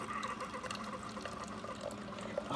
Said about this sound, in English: it's making the freaking cup of coffee right now